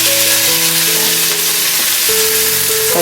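Onion frying in hot oil in a pan, a loud, steady, close sizzle that fills the whole moment without pause.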